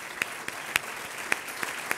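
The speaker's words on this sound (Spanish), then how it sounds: "un aplauso, por favor" Audience applause at a Spanish football kit presentation event, a steady wash of clapping hands with a few sharper claps standing out, moderately loud and continuous with no talk over it.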